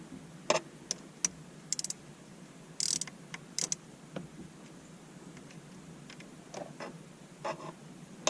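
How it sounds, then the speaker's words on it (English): An Allen key socket tightens a bolt on a subwoofer install in a 2014 Dodge Charger Pursuit, giving faint, irregular mechanical clicks and ticks spaced out over a quiet background. "Grab our Allen key, socket, tighten it down"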